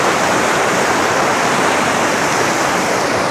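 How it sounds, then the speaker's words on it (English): Fast-flowing brown water of the Koiteli river rapids roars in a steady, dense wash of white noise, loud and continuous with no voices. "managed to capture the sound of the rapids"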